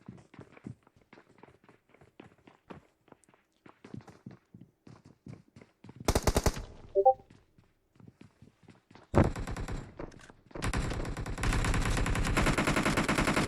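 PUBG Mobile gunfire: a short automatic burst, then a long sustained stretch of loud rapid shots, preceded by soft footsteps in the game.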